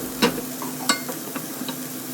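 Tomato and onion paste with ginger, garlic and yogurt frying in a pan, with a steady low sizzle and a few sharp clinks of a spoon stirring, no talk.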